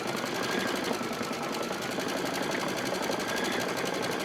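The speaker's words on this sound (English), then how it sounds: "lower the foot, and hit start again" Embroidery machine rapidly stitching an appliqué in the hoop, a dense, fast, even needle chatter running close and steady throughout with no talking.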